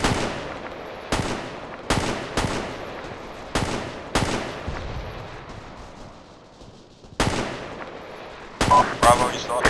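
Machine gun fire in the Arma 3 military game, sharp loud bursts at irregular intervals with decaying echoes between them, about nine shots or short bursts across the span.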